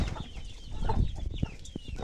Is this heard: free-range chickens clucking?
yes